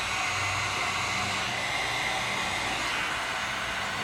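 A heat gun blows hot air over a Ford Focus headlight lens being covered with tint film, a steady loud whooshing hum held without a break.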